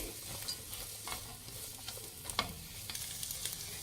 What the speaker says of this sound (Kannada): ಇವಾಗ ಕ್ಯಾಪ್ಸಿಕಮ್ ಹಾಕೊಳ್ಳೋಣ, ಕ್ಯಾರೆಟ್, ಹುಳ್ಳಿಕಾಯಿ ಫ್ರೆಂಡ್ಸ್. ನೋಡಿ, ಇದು ಅಷ್ಟೇ ಒಂದು ಸ್ವಲ್ಪ ಫ್ರೈ ಮಾಡಿ